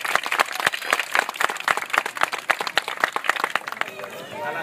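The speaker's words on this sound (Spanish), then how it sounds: "Muchas gracias y un aplauso" Scattered applause from a small group, sharp uneven claps close by, with voices murmuring underneath as it tapers off.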